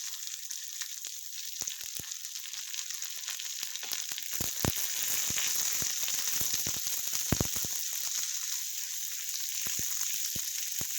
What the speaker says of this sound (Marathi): आता आपण यामध्ये कांदा घालायचा आहे कांदा पण छान खरपूस भाजून घ्यायचा आहे